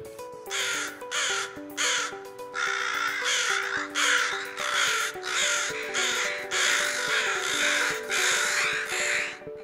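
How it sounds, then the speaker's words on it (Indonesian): Crows caw loudly over and over, harsh calls coming in quick overlapping bursts as if several birds are close together. "burung gagak biasanya akan berkumpul dalam jumlah yang banyak dan mengeluarkan suara yang sangat keras"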